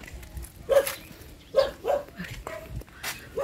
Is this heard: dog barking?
yes